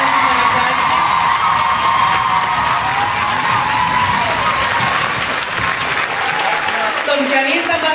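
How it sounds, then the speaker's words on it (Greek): Loud, steady audience applause fills a Greek school choir concert honoring singers and pianist, with scattered cheers and whoops rising through the crowd throughout. "Και ένα πιο δυνατό χειροκρότημα και ένα πιο μεγάλο μπράβο"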